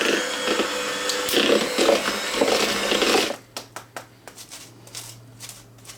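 Electric mixer beating icing sugar into cream cheese frosting, a steady loud whirring drone that cuts off abruptly partway, leaving a few scraping knocks and a low hum.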